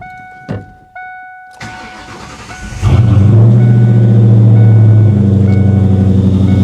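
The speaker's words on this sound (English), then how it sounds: "Man, the exhaust on this thing is so good." A 1997 Ford Mustang GT V8 cranks and fires up, then settles into a loud, deep, steady rumble from the exhaust, close by, with no talking.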